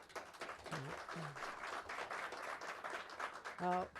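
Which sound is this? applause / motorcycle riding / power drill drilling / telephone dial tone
applause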